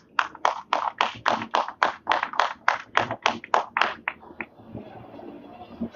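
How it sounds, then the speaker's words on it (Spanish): An audience claps at an event in Tlaquepaque for a local artist, about sixteen evenly spaced sharp claps in a steady rhythm, close and clear, fading into quiet at the end. "un fuerte aplauso para él"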